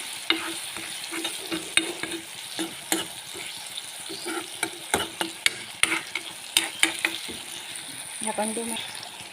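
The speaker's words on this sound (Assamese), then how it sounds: "এইখিনি এতিয়া গলি ল'বলৈ দিম, বিলাহী আৰু পিঁয়াজখিনি" Tomato and onion with turmeric fry in a pan, a close, steady sizzle broken by repeated knocks and scrapes of a spatula stirring.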